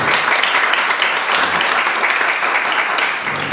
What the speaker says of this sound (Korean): 이들을 위해서 격려의 박수를 합시다.